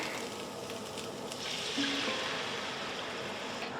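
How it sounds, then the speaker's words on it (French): Broth poured into a hot pan of scorching onions and meat, a steady watery rush and hiss that swells midway and holds, close and alone. "On va mettre tout de suite le bouillon."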